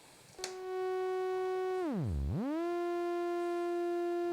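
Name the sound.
synthesizer function generator looping envelope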